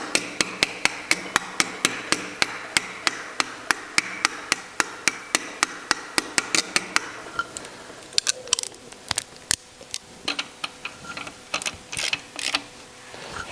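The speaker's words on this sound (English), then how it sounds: "Sometimes to just tap it on because it's a tight fit," A hammer taps a crankshaft pulley onto the crank of an air-cooled Porsche engine. The strikes are sharp, metallic and evenly spaced, then turn quicker and more irregular near the end.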